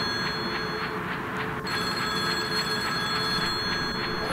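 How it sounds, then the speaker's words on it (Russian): A telephone rings in the horror video game Bear Haven, a steady repeating electronic trill over a quiet hum, sounding continuously at moderate volume. "и у меня зазвонил телефон"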